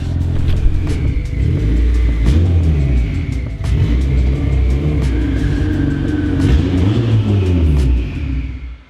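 A turbocharged, fully built Honda B18 engine in a Civic on a road drive rumbles loud and close, rising and falling in pitch through repeated revs and gear changes, with no talk over it.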